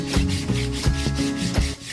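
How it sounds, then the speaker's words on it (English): Sia sandpaper rubbed by hand along freshly cut wood edges for a boat interior, several quick rhythmic back-and-forth strokes, close and distinct, no talking. "I'll just sand the edges a little bit."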